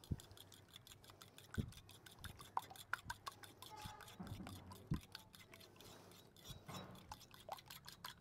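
Three tablespoons of yogurt being beaten in a bowl, giving a quiet, steady run of light rhythmic clicks and taps from the whisk against the bowl, with no talking.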